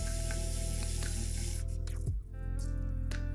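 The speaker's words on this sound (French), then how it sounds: "vous venez prendre une bombe aérosol noire de peinture et puis vous venez en appliquer un petit peu sur toute la surface" A can of black aerosol spray paint hisses in a long, steady, close jet over a scratched wooden surface, breaking off briefly and then resuming.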